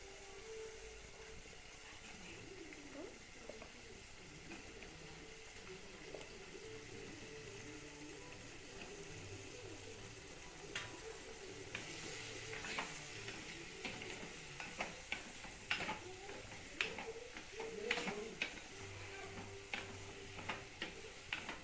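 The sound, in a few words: eggplant and drumstick sizzling as they are added to the pan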